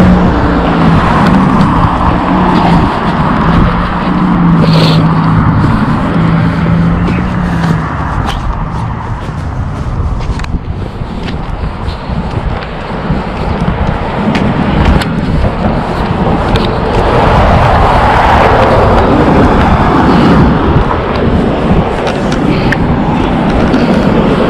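Steady, loud road traffic on a winter evening at rush hour in Toronto, a continuous roar of many cars with engines humming and vehicles passing close by, no talking.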